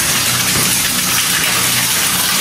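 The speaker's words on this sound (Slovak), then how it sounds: "Tam nejaká trhlina riadná, stade vlastne preráža voda." Water bursts through a crack in the rock inside the old Izabela mine adit in Slovakia, a loud, steady broadband gush that fills the space without pause.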